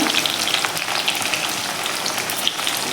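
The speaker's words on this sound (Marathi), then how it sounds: "भेंडी आपल्याला फ्राय करून घ्यायची आहे" Okra frying in a little oil in a wok, a dense, steady sizzle with fine crackling throughout, close and fairly loud, with no voices.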